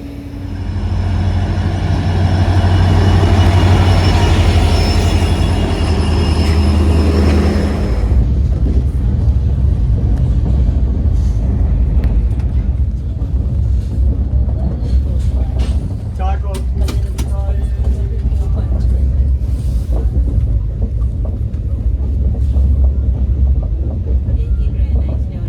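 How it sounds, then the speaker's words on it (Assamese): A passenger train speeds along on the way from Goalpara toward Sikkim, a steady rumbling roar heard from inside with rattling and clatter throughout, while people talk. "এতিয়া গৈ আছোঁ আৰু বহুত জল্দি ট্ৰেইনখন চলি আছে"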